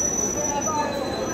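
A high speed local train running past Ranaghat station, a steady close rumble with a thin high whine of wheels, continuous and loud for the whole moment.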